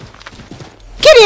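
A horse's hooves clip-clop in Assassin's Creed 3, a few soft steps followed by a sudden louder burst at the end.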